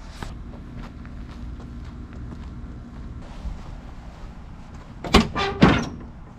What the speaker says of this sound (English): Can't get the door to stay open